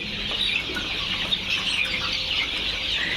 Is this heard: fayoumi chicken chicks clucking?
yes